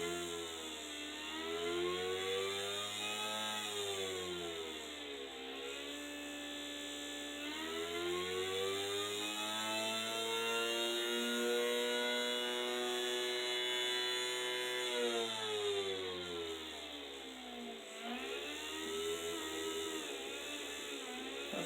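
A 3D printed sensorless brushless DC motor with 4 magnets spins with a loud, close whine. The pitch ramps up and down repeatedly as the speed changes, and a steady high hiss sits beneath it.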